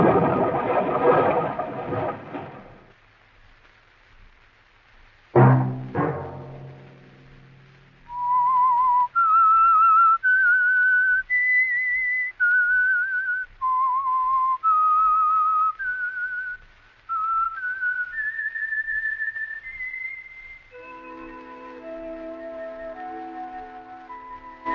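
A lone whistled melody, the signature tune of the radio drama The Whistler, rising and falling in clear sustained notes after a brief burst of orchestral music and a sharp chord, ending as the music returns.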